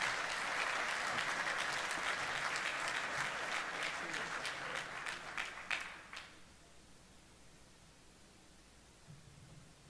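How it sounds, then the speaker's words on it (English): An audience at the LANPAC '25 symposium and exposition applauds Dr. McManus, a steady round of clapping from a room full of people that fades out after about six seconds into quiet room tone. "Let's give Dr. McManus a big round of applause."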